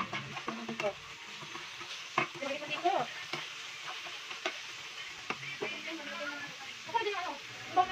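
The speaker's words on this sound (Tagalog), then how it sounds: "Isusunod natin itong ating alamang at ihalo-haloin." Shrimp paste and pork are stirred in a frying pan, a spatula scraping and clicking over a steady hiss of frying oil.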